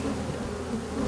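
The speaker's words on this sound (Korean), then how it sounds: "수천만 마리의 벌들이 모기 활동을 위해 바쁜 날갯짓을 하고 있습니다" Honeybees swarm around rows of yellow hive boxes in lush May greenery, making a dense, steady, close buzz of countless wings with no break.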